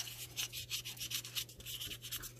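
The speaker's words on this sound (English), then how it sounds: "I'm taking that same sandpaper and I'm just lightly going around it, just to kind of take off that sheen" Sandpaper is worked lightly by hand around a small dollhouse planter to dull its glossy finish, producing soft, quick back-and-forth scratchy strokes in a steady rhythm, quiet and close, with no voices.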